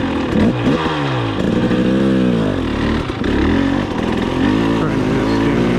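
A 2022 Husqvarna TE 300i two-stroke motorcycle on stock tires lugs slowly in second gear, its engine burbling and rising and falling in pitch with throttle, close and continuous.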